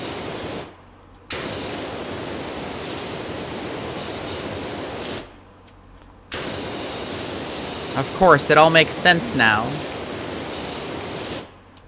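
Steady broadband hiss of a power washer spraying in the Powerwash Simulator video game, running loud and continuous with two short breaks, while someone talks briefly over it near the end.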